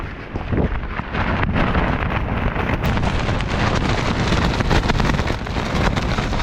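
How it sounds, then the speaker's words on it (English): Strong gusts of wind at a wild camp beside Loch Dee buffet the microphone, a loud, continuous roaring rumble with brief lulls and no speech. "It's a bit breezy"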